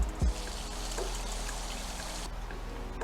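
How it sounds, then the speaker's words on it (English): Tap water runs steadily into a sink or container filling to soak collard greens with salt, a continuous faint trickling wash with a small knock near the start, no talk. "Let me fill this up with water and I'll be back."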